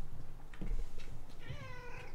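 A house cat meows twice, a short call followed by a longer, rising-and-falling meow, fairly close and clear over a low background hum.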